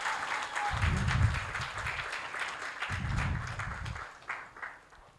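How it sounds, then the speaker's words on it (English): An audience at a panel event breaks into a round of applause, swelling in two bursts of clapping with some murmuring and voices mixed in before it tapers off. "Ladies and gentlemen, a round of applause for Awoli, Professor Monica Chibita."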